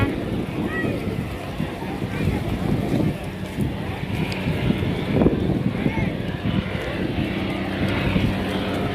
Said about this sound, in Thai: เสียงเครื่องหัวเรือลากยังนั่นอยู่